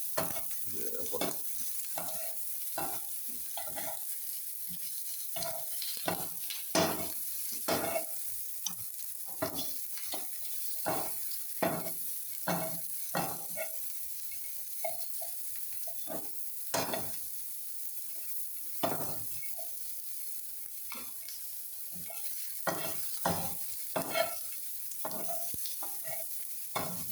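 Onions sauté in a pan for noodles, a faint, continuous sizzle broken by frequent scraping and stirring clicks of a utensil against the pan.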